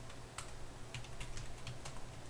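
Someone types on a computer keyboard while writing YACC code, producing a light, uneven run of key clicks over a steady background hiss, close and fairly quiet.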